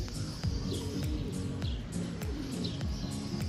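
Pigeons coo in low repeated rolling calls close by, mixed with scattered chirps and clicks from other birds in the background.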